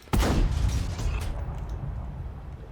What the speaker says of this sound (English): So I'm going to go for a blind shot.